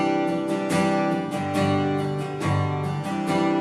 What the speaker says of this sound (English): So going from a G to a C2.